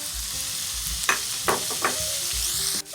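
Drained ground beef sizzles in a pan as smoked paprika is stirred in, a low steady frying hiss broken by a few distinct scraping stirs, with no talk.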